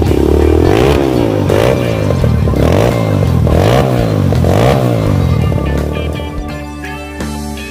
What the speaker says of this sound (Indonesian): dia juga masih sesekali menancapkan gasnya bersama teman-teman dengan motor gunungnya